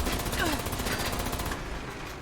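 Pipe pistol gunfire in the video game Fallout 76, a fast burst of loud shots layered over busy game sound, running for about two seconds before easing off.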